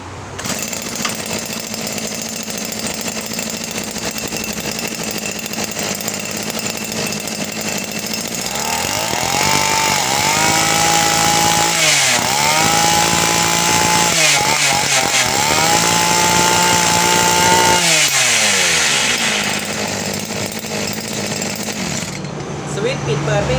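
A Japanese brush cutter engine runs loud and close, idling with a buzzy rattle, then revving up in several rising and falling surges before settling back.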